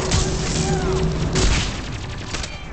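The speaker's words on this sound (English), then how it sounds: "No, grenade again." Grenade blast in the Mass Effect 3 video game, a loud, dense booming burst with crackling debris, mixed with gunfire and other game sounds, while a player talks.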